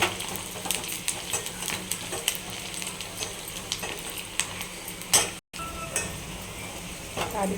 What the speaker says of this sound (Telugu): తాలింపు బాగా మిగిలిపోయిందండి. ఇది మనం పప్పులోకి వేసుకున్నాం.